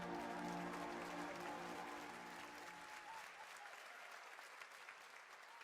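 A crowd at a gaming festival showcase claps loudly as a title card appears, the dense applause slowly thinning and fading over several seconds with faint voices and music tones beneath.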